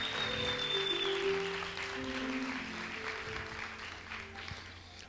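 Congregation applause in a church during a Spanish-language sermon, a soft, even patter of clapping that gradually fades, with faint sustained tones in the background and no talk.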